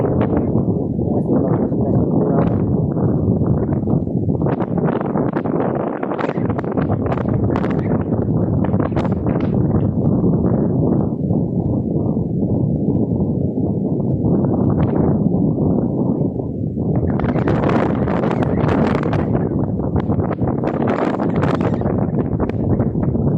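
Strong wind buffets the microphone in continuous rough gusts, a loud blustery roar that swells and eases throughout.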